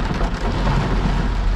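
Heavy rain pounds a BMW during a drive, a loud, dense and steady roar with no voices.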